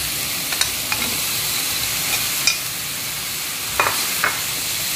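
Tempeh frying in a pan with petai and bean sprouts, a steady loud sizzle broken by a few scraping stirs of a utensil against the pan.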